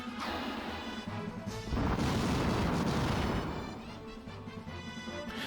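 A fire spell goes off in Final Fantasy II, a crashing, roaring burst that swells loud for a couple of seconds before fading into softer game sounds.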